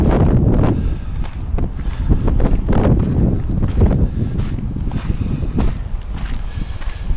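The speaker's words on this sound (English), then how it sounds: "I better turn the mic away from the wind, the prevailing wind." Prevailing wind buffets a microphone outdoors, a continuous loud rumbling roar with gusty surges throughout and no voices.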